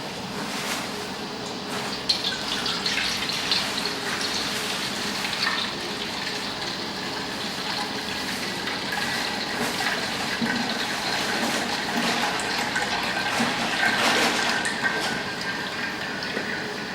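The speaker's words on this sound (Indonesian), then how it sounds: "Setelah itu saring santan dan tuangkan ke wajan." Coconut milk being strained and poured into a wok runs as a steady, continuous liquid trickle and splash, close by and moderately loud, throughout with no talking.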